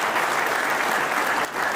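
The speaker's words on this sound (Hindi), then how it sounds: "मैं चाहता हूं कि एक जोरदार ताली आप सभी हमारे लीडर्स के लिए" A large crowd at a business gathering in Shimla claps loudly for their leaders, a dense, steady burst of applause filling the whole moment before easing off slightly near the end.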